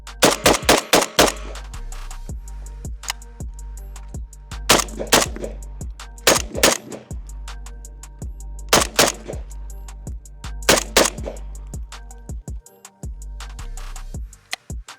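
Palmetto AK rifle firing at a range: loud, close gunshots in quick strings of several rounds, separated by short pauses, with sharp cracks repeating across the whole stretch.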